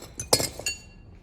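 A tungsten carbide wheel glass cutter with a slightly eccentric axle scores stained glass, giving a few short, bright, glassy clicks and chinks close by, with a faint ringing tail.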